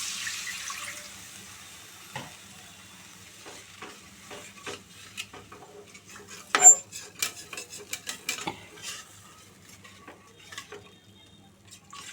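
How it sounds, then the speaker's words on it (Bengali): Water goes into a sizzling pan of fried spices for a vegetarian potol (pointed gourd) dish, setting off a burst of hissing and spattering, followed by scraping and stirring clatter with a utensil, close up and without speech. "এবার এর মধ্যে জল দিয়ে দিচ্ছি"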